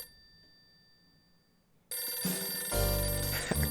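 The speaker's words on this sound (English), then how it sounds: "The phone's ringing." A telephone rings in the detective game Last Window: The Secret of Cape West. The ring comes in suddenly after a quiet stretch and is loud and sustained over dense layered game music, with no voices.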